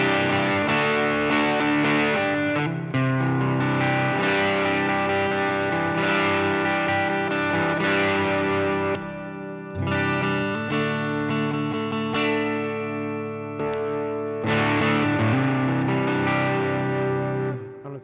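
Bass guitar played through a ThorpyFX Gunshot clone distortion pedal with a little reverb, giving a loud, thick, continuous overdriven tone with sustained notes and brief gaps between phrases.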